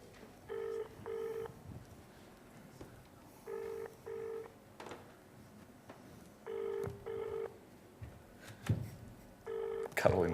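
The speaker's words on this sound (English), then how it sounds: "It's dialing on speaker." A telephone rings out over a speakerphone as a call goes through, giving paired ringback tones at steady intervals, faint and thin, with people talking quietly in between.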